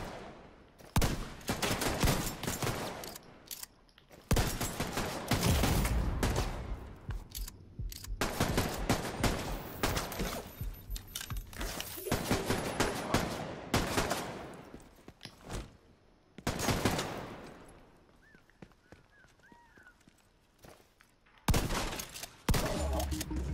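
Gunfire from the video game The Division: loud bursts of automatic weapon fire come in repeated volleys with short pauses, some long sustained strings of shots, alongside quieter impact and movement sounds.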